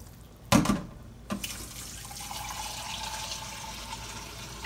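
Tap water runs into a soup pot for chicken noodle soup, a sharp knock and splash at the start, then a steady hissing pour that continues at moderate level.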